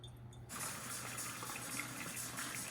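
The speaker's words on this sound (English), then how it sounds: "the storage tank is draining right now" Water drains from the storage tank of a reverse osmosis system, a soft, steady gushing flow that starts abruptly after a brief low hum and then continues evenly, faint and close.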